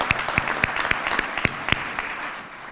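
Audience applause at a white coat ceremony for an incoming medical school class: a steady, moderate patter of clapping hands, with a few louder individual claps standing out.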